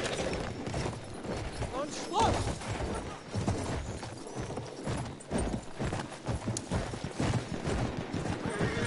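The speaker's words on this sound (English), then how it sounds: "Good for nothing, goddamn horse." Horse galloping in a Battlefield video game, rapid hoofbeats clopping close and loud with a brief whinny and scattered distant gunfire, while someone talks over the action.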